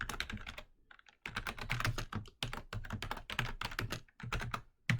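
Rapid, irregular clatter of keys being typed on a computer keyboard while entering HTML code, close and clear, with short pauses between bursts and no talking.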